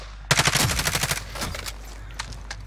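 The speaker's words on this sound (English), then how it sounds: "Where are we shooting at now?" Rapid automatic gunfire in the video game Call of Duty Warzone, a loud close burst of shots followed by a few scattered single shots fading off.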